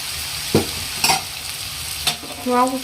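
Roasted spice powder mix, including cumin powder, is stirred in a frying pan, with a few scraping strokes and a faint sizzle, close and fairly quiet.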